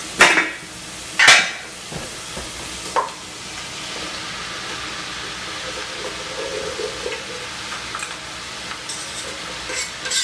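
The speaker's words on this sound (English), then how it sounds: "I'm going to add the potatoes in and cook them for like 10 minutes" Diced potatoes frying in a pan for potatoes O'Brien give a steady soft sizzle, broken early by a few sharp scraping clinks of a utensil stirring against the pan.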